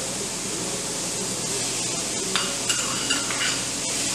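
Capsicum being stirred in a pan: a steady frying sizzle with faint scraping and a few light clinks of a utensil against the pan, without any talking.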